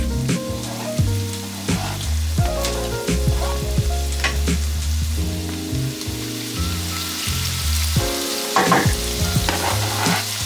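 Garlic frying in a pan for a vegetable stir fry, a steady close sizzle broken by scraping stir strokes and clatter all the way through, with no talk.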